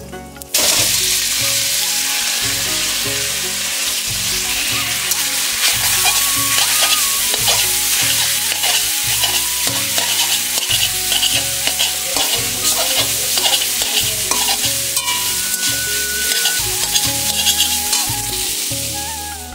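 Pasta sizzles and fries in hot oil in a pan while being stirred, with steady loud crackling and repeated scraping strokes throughout, no voices.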